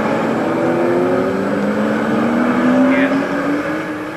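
A race car at the 1988 Castrol 6 Hour at Manfield, New Zealand, revs loudly and continuously, its engine pitch climbing steadily through the gears before easing off near the end.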